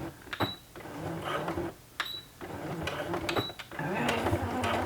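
A sewing machine stitches a crossbody bag, running in short loud bursts broken by sharp clicks and pauses, with a rhythmic mechanical hum close by.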